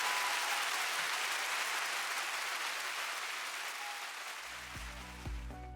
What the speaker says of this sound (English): Ladies and gentlemen, please clap for MWCJ